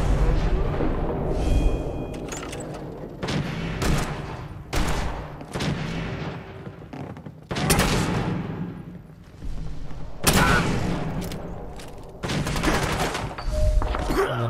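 Modded shotguns fire in the video game Fallout 4, heard as a series of loud, booming blasts spaced a second or two apart, each with a short decaying tail.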